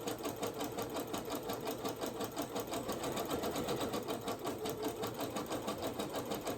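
Sewing machine stitching a zigzag along braided twist placemats, a steady fast mechanical whirring with even rhythmic pulses, close and continuous.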